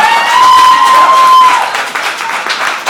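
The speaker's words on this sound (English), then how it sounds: "Oh, you can clap louder than that." An audience at a Cafe Solstice performance applauds with dense, steady clapping that swells and then thins, with some cheering mixed in and a faint sustained tone at the start.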